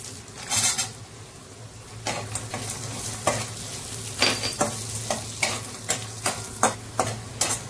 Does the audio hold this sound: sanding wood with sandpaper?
no